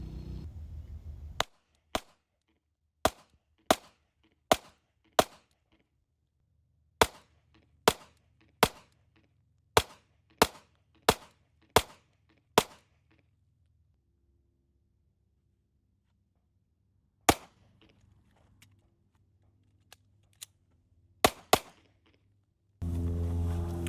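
Glock pistol firing steel-cased ammunition from stock Glock and Magpul magazines: sharp, loud single shots in quick strings, a pause, then a few more scattered shots, with quiet handling noise between.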